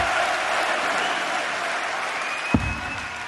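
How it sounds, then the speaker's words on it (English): A crowd at the 2016 European Darts Matchplay, a second-round match between White and Hopp, claps in steady applause. The dense clapping carries throughout, with a single sharp thud near the end. "the crowd are absolutely loving this"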